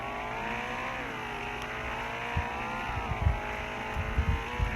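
A game car's engine drones steadily in a tornado-chasing video game, with rising and falling harmonic whine and occasional low thumps and bumps toward the end, no talk over it.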